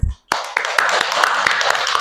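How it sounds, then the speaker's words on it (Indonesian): A classroom bursts into applause for a student named Arya and her group after a presentation, with dense, steady clapping from many hands that starts abruptly and continues close and loud, with a few voices mixed in. "beri tepuk tangan untuk Arya"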